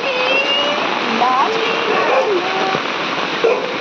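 Heavy torrential rain pours outdoors over a courtyard, a dense, loud, continuous hiss of water with scattered splashes, while people talk over it.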